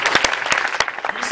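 Short burst of applause from an audience at a senior all-night party hypnotist show, with a few sharp individual claps standing out close by over a general crowd clatter.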